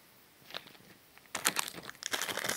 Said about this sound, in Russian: Так, теперь откроем вот этот пакетик.